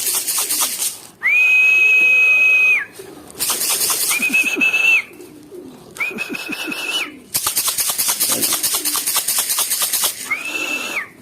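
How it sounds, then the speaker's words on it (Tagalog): Several loud, sustained human whistles calling pigeons repeat with short gaps between them, close to the listener, over faint background clatter. "May iba dyan alerto na pag narinig na yung sipol natin."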